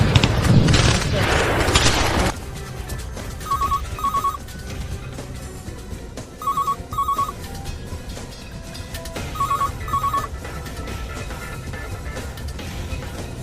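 A telephone rings in paired bursts three times, evenly spaced and fairly clear over a low background, after a loud noisy burst at the start.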